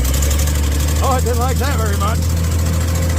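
A Gleaner combine harvesting corn, its engine rough from a bad exhaust manifold, drones loud and steady close by throughout, with someone speaking briefly over the constant low rumble.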